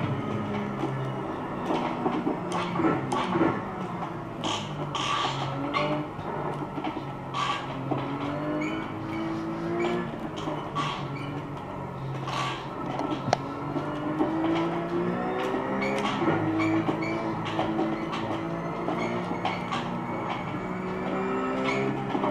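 Engine of a RUF Cup race car without ABS, driven in the iRacing sim at Summit, a steady droning whine rising and falling through gear changes over the whole stretch, with no talk.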